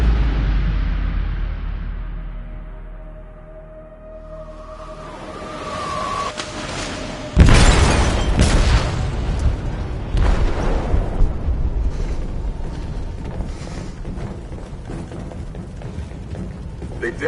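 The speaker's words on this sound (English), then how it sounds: "They detonated an explosive in the hold." An explosion on a ship in the video game Detroit: Become Human, a low rumbling build-up leading to a sudden loud boom followed by a long roaring, crackling aftermath.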